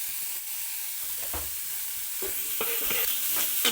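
Food is sautéed with pepper and cumin in a pan under a low background sizzle, and a spoon scrapes and stirs in several distinct strokes that cluster toward the end.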